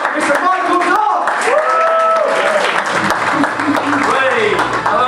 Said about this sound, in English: Let's get some cheering going.